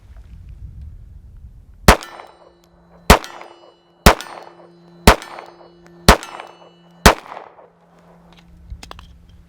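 Six evenly spaced Glock 42 pistol shots, each followed by a ringing metallic clang from a steel target 26 yards downrange, with sharp loud reports about one second apart and brief decaying rings between.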